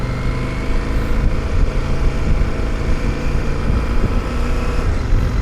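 CFMOTO 1000 MTX, a big motorcycle with a cylinder-block engine, droning steadily as it rides, a loud continuous engine and wind roar held at an even level throughout.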